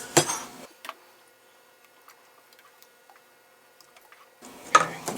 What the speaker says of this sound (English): I know it looks like I'm putting a lot in, but this is kosher salt and it doesn't fit through the holes very well